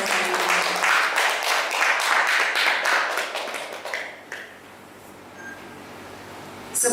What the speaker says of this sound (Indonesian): Sekali lagi beri tepuk tangan yang paling meriah Bapak Ibu untuk CKP kita pada sore hari ini